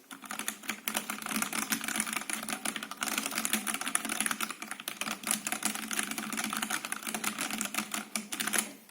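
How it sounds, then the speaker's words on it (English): Steady typing on a Drop Entr TKL mechanical keyboard, with fast, even keystrokes clattering close up for several seconds and no voice over them. "so you guys can actually hear what it sounds like when I press the keys"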